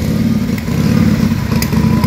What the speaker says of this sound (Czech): Dvouválcový motocykl se sportovým motorem